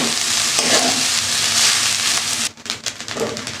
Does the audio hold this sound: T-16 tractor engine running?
no